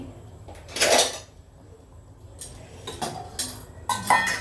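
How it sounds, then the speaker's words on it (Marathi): Dishes and cutlery clatter and clink in short bursts as items are moved and stacked, with quiet pauses between. "सकाळी भांड्याचा हा आवरला नव्हता ते आता आवरतीये"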